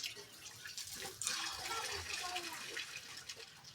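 Water runs steadily from a tap during washing of vessels, a soft continuous splashing flow with faint clatter, heard fairly quietly throughout.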